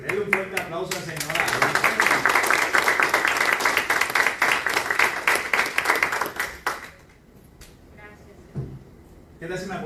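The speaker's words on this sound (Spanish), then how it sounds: "Denle un fuerte aplauso al Señor." A full church congregation claps loudly and steadily for several seconds with sharp, rhythmic hand claps, then the applause stops abruptly and speech follows.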